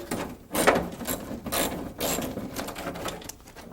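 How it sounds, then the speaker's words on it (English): A hand ratchet loosening the last bolts underneath a car's rear fender during disassembly, quick clicking pawl runs in short bursts with some rubbing, close and moderately loud, without speech. "We're just getting the last bolts out from underneath the rear fender."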